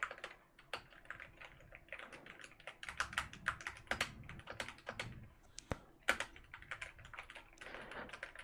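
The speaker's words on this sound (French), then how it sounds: "cette fois le clavier est QWERTY" Fingers type steadily on a QWERTY computer keyboard close up, with quick irregular key clicks and occasional louder clacks, continuous and crisp against a quiet background with no talking.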